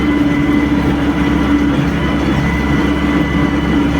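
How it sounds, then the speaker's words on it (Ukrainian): A tractor pulls a plough through a field of rain-softened late-November soil, its heavy engine a steady loud drone that runs through without a break and no talk. "Ну нічого, трактор іде."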